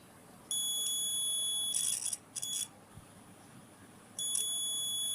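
A digital multimeter beeps in continuity mode as its probes touch a cable, producing a steady high-pitched electronic tone in sustained stretches with short breaks, fairly faint over room hiss.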